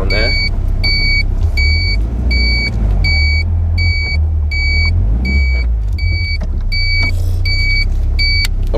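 A Caterham Seven 270S sports car idles close by with a steady low engine rumble while it is turned around in a tight spot, and repeated high electronic beeps pulse regularly over the motor throughout.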